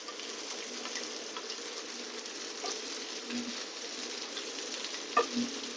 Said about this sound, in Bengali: একটু ভাজা ভাজা করে নেবে শুটকি,